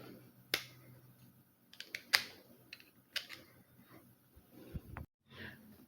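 A screwdriver pries loose the retaining clip on a Vendetta speed gear, giving a few sharp, separate clicks and snaps close by, with some faint handling noise in between.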